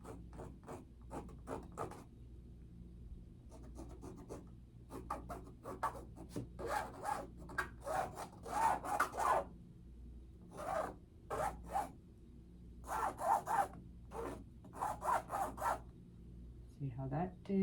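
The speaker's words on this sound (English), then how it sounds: "you might scrape some colors right on top of that with a different color." Paint is scraped across an abstract painting in quiet, rasping strokes, short bursts at an uneven rhythm, close by and fairly faint, with no talking.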